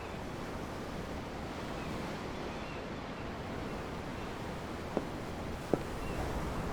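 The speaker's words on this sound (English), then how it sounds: "The ocean? Yeah. The waves." Steady ocean surf rolls on in Tales of Arise, a soft continuous wash of waves with wind, heard alone apart from two faint clicks near the end.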